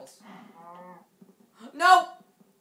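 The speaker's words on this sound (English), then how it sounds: "Did I hear a cow?" A cow in the Minecraft video game gives a drawn-out moo, then a second louder, sharper moo after a short pause, clear and close with no talk over it.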